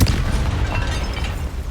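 A Confringo blasting spell explodes in the Hogwarts Legacy video game, producing a loud, sustained rumbling boom that fills the whole moment with no voices.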